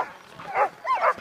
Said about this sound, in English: And these dogs, we got them all hooked in.